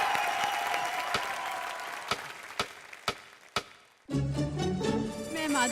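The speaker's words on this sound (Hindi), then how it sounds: "चलिए एक बार जोरदार तालियां हो जाएं इनके लिए" Studio audience applause on a TV entertainment show thins out to a few scattered, sharp claps before a voice takes over and music starts.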